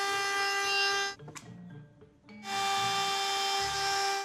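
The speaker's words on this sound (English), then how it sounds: "I can now use a simple router to round out the lip." A router whines close and loud while rounding the lip of a wooden tankard, a high tonal buzz that cuts out for about a second of clatter and handling, then starts up again.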